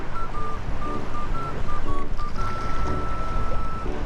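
A boat motor drones steadily near a river mouth, with a faint high engine whine and a low rumble of water running under it throughout.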